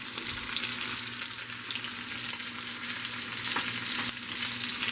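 Garlic frying in a hot pan alongside a bone-in prime rib, giving a steady, dense sizzle and crackle throughout with a few sharper pops, close and fairly loud, no voices.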